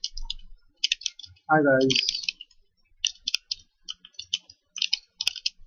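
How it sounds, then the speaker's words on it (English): Rapid, light computer keyboard clicks tap out in short bursts, with a brief spoken greeting partway through. "I can type with the keyboard."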